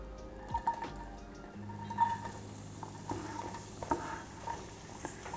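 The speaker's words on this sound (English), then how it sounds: "Sizzle, sizzle." Steady sizzling of vegetables frying in butter in a pan, with occasional clinks and stirring scrapes, close up and without any talking.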